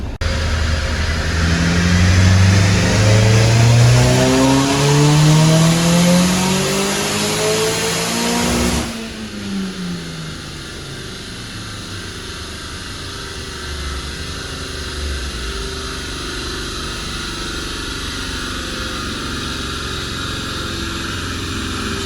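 Turbocharged Nissan Cube engine on a dyno, revving loud and close in one long rising pull before the throttle cuts sharply, then winding down and settling into a quieter idle with a faint whir.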